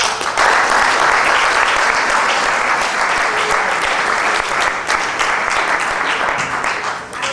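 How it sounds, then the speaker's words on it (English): A crowd claps in sustained, dense applause, loud and even throughout, tapering slightly toward the end. "Can we have a round of applause for Sir Peter?"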